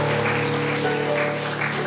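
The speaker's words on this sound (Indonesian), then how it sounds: "Kita tepuk tangan dong" People at a midweek church fellowship gathering applaud with steady, even clapping that lasts about two seconds over a low electrical hum.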